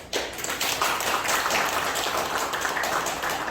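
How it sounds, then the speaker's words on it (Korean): Applause from a small indoor audience welcoming a presidential candidate at a party office visit in Incheon, a steady patter of clapping hands, moderately close and fairly quiet, with no talk over it. "황교안 후보님 큰 박수로 맞아주시면 고맙겠습니다."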